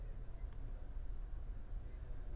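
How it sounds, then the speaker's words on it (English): Rip Curl World Tide Watch sounding its countdown timer alarm: two short, high electronic beep bursts about one and a half seconds apart over a quiet background hiss, nearby and otherwise silent. "That timer counts down to 0 and an alarm will sound."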